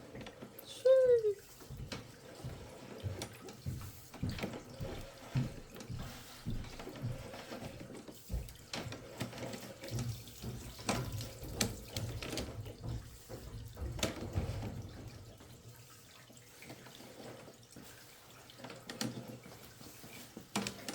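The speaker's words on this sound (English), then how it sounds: "It's like you turn on the hot water." Hot water running from a tap during sewer cleanout repair work at a house, a soft continuous flow with clunks and handling noises, while people talk quietly nearby.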